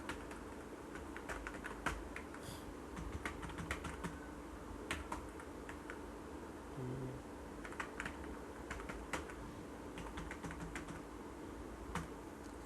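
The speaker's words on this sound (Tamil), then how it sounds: "ஸோ இதே மாதிரி நான் டைப் பண்ணிக்கிறேன்." Typing on a computer keyboard while entering data in Microsoft Word: quick, irregular clusters of crisp key clicks, close and fairly soft, continuing steadily with short pauses and no talk.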